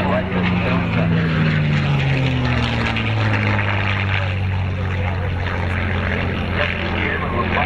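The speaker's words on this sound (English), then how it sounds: "Rosie Rosendahl bring that big P-51C Mustang right to the field center." A big P-51C Mustang propeller plane flies over an airfield, its deep engine drone loud and sliding down in pitch as it passes, with an announcer talking over it.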